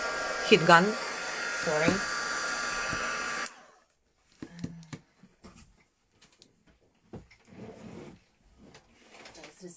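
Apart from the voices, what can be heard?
heat gun drying craft paste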